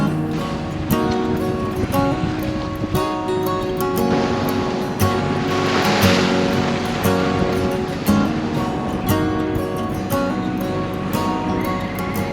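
A sailboat under sail with both sails up and no engine, moving at about five knots off the South Norwegian coast; a loud, steady rush of water and waves along the hull with wind noise throughout.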